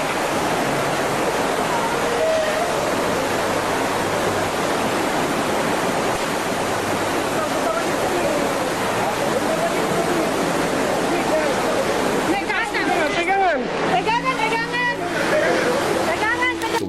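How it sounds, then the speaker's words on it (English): A deafening, continuous roar of rushing tsunami water fills the sound, broad and steady like a massive waterfall, with a rougher surge of churning water near the end. "People's screams were lost in the deafening roar of water."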